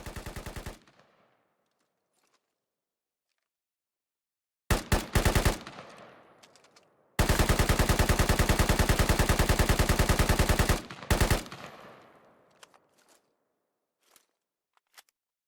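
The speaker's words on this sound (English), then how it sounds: "First is the RPK with the OKP-7 sight and drum mag." RPK automatic rifle fitted with an OKP-7 sight and drum magazine, fired in the video game Squad: a short opening burst, then a second burst, then a long sustained stream of rapid shots and a final short burst, loud and close, with no talk.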